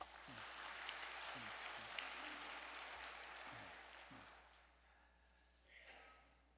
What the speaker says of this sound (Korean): 박수를 한번 보내겠습니다.